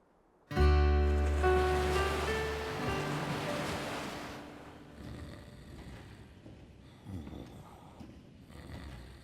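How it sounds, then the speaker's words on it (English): A cartoon wind gust rushes in suddenly and loudly with a low, moaning tone, then slowly fades into a softer breathy whoosh over several seconds. "Just the wind."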